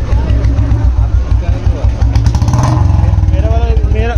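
A Royal Enfield Bullet 350 motorcycle idles at low rpm, its loud, close single-cylinder thump pulsing at a steady beat while people talk over it.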